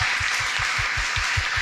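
Church congregation clapping in unison to give thanks to Jesus, a steady rhythmic beat of about five claps per second, loud and continuous.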